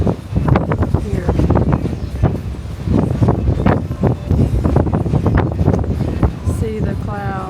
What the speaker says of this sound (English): But you can definitely feel the wind